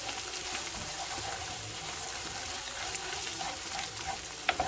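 Beaten eggs with mixed spices fry in a pan for egg fried rice. A continuous sizzle runs throughout, with light scraping as the eggs are stirred and a couple of sharp clinks near the end.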